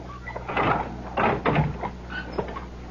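Door opening and closing as a radio drama sound effect, a series of close wooden thumps, creaks and latch clicks over a low steady hum.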